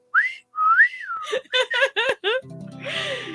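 A person whistles a short rising and falling tune, several quick bright notes close by, followed by a breathy sound.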